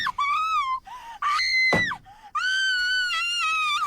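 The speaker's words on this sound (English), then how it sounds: "A gun cracks, the girl screams" A girl's screams in a radio thriller shootout, a long high wavering shriek, a sharp cry, then a sustained scream, loud and close with no talk.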